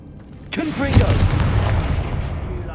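A Confringo blasting spell goes off with a sudden loud burst in Hogwarts Legacy, then a rumbling, crackling decay that tails off over about two seconds amid game sound, with a voice briefly heard.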